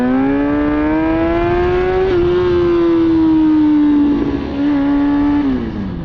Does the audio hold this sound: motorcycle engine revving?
yes